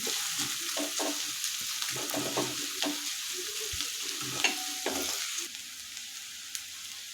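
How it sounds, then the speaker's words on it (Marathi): Chopped onions sautéing in a pan for poha, a steady soft sizzle and frying hiss with occasional stirring scrapes, close and continuous with no voices. "गुलाबी कलर येईपर्यंत परतून घ्यायचा आहे पोह्यासाठी जास्त गोल्डन ब्राऊन कांदा नाही करायचा"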